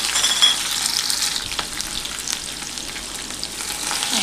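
Green chillies fry in oil alongside peanuts for rava upma, a close, steady sizzling hiss with a few sharper crackles and stirring scrapes, continuing evenly without talking.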